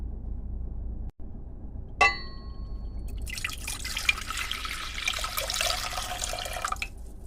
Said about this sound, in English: So there I have put my vinegar and water just into my pot.